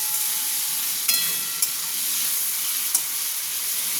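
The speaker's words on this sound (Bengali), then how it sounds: "এটাকে একটু ভেজে নিই।" Raw melon sizzles steadily in a hot pan with a constant frying hiss, broken by a few brief scrapes of stirring.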